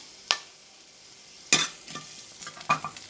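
Cinnamon sticks and cloves fry in hot oil in a pan, giving short sizzling, crackling bursts: a sharp pop near the start and then a louder sizzle with scattered crackles later on, close by and with no voices.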